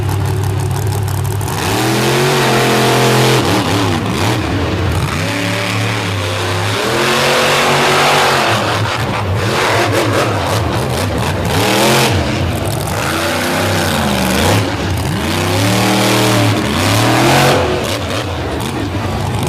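Loud, close engine of a pulling truck roars through a truck pull run, with repeated rising and falling revs as the throttle surges, sustained and dominant throughout.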